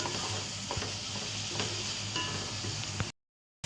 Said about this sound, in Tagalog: Haluin lang natin ang haluin para maayos o maganda po ang pagkaluto ng ating ginamit na chicken breast.